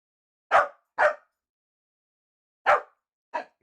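A small dog gives four short, sharp yaps spaced irregularly against silence, close and clear.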